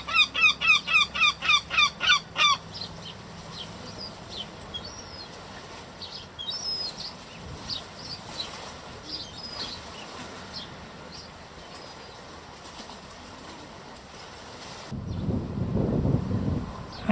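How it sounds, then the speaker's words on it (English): A black-backed gull gives a run of loud, rhythmic honking calls at the start, followed by quieter scattered cries and, near the end, a burst of wing flapping close by. "here's the black-backed gull that was objecting to my camera just before"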